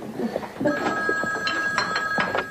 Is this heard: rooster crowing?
no